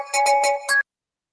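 A ringtone for a radio show's bat phone bursts out in several quick electronic pulses with bright tonal ringing, then cuts off abruptly into silence.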